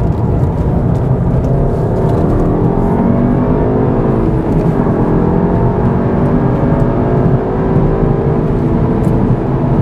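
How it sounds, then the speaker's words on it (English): Tuned VW GTI Clubsport on a race track, engine loud and close as it brakes hard and drops through the gears, droning and blipping continuously with no pause. "Okay, braking late, into third, into second."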